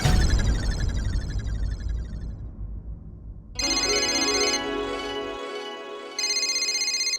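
A phone rings with an incoming call, first a fading melodic tone, then a bright electronic ringtone repeating in two loud bursts separated by a short pause.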